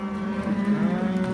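Cattle lowing on a road during a drive of a herd of around 370 head with new calves, a steady sustained moo holding at moderate loudness throughout, close by and alone without talk.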